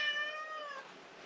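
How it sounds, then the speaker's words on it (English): A pet cat gives a single clear, drawn-out meow up close that fades off at the end, with no talking. "That's our cat."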